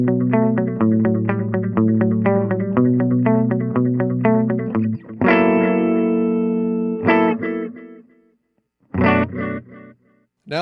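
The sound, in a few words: guitar reverb with longer pre-delay, Ventris Dual Reverb pedal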